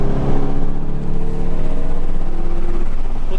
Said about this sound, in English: Slowly apply the throttle